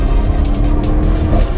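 Audi RS6 Performance fitted with an upgraded Akrapovic exhaust, a loud, deep, steady engine and exhaust rumble that holds through a short stretch.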